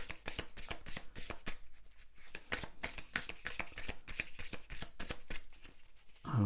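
Oracle cards are shuffled and handled in a rapid run of close, crisp papery snaps and riffles, fairly quiet and continuous with an uneven rhythm throughout.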